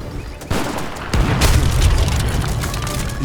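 A loud cannon blast in Age of Empires 3 booms out, followed by a second heavy explosion and a sustained rumbling roar.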